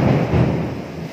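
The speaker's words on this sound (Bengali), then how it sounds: "বীভৎস যে বাজ পড়ছে, আর খুব কাছে কাছে বাজগুলো পড়ছে" Close, heavy thunder rolls in a low, sustained rumble during a storm, loud and continuous without any talk.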